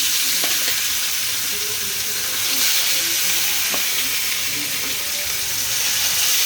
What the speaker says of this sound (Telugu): నూనె బాగా కాగిన తర్వాత ఒక్కొక్క ముక్క వేయాలి.